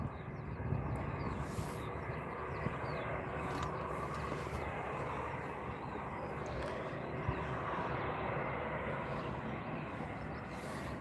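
A Turkish Airlines Airbus A321 passes at Stockholm Arlanda Airport, a steady broad jet roar holding at moderate, distant loudness for the whole stretch with no voices over it.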